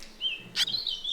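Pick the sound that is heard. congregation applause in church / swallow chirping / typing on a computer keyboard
swallow chirping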